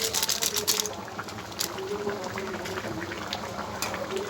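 Spicy Katla fish curry bubbling on a gas stove, a continuous busy simmer of popping bubbles at close range, with a few louder spits in the first second.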